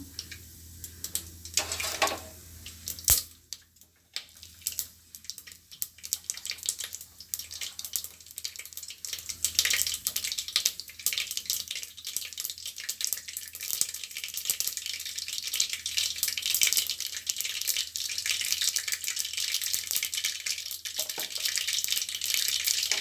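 Mustard seeds and fenugreek sizzle in hot oil for rasam, a bright continuous hiss scattered with crackling pops. It builds louder and denser as the cooking goes on, with no one talking.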